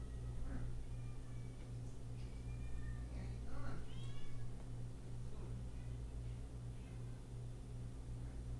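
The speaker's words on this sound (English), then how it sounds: "We got the cat." A cat meows several times in soft, short chirps, heard faintly over a constant low electrical hum in a quiet room.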